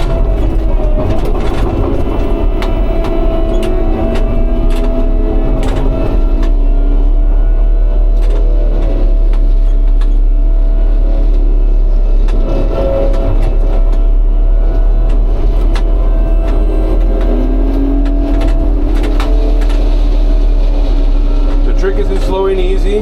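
LTR 6160 forestry mulcher attachment grinding material from the operator's seat, a loud continuous machine roar with heavy low rumble, shifting engine pitch and intermittent crunching impacts throughout.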